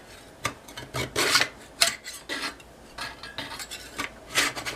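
A hand saw rasps through wooden dollhouse trim in a few quick back-and-forth strokes, close and scratchy, with short pauses between bursts.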